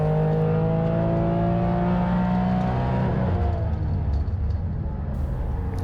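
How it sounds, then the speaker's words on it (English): A shiny Porsche race car lapping the Hampton Downs circuit, its engine loud and close in-car, revving high with whining gear tones that shift and drop as it changes pace. "Let's ride along with Blair O'Brien in his ever so shiny Porsche as he tries to go faster than a Yaris."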